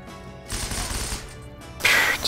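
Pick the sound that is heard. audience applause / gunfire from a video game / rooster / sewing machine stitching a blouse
gunfire from a video game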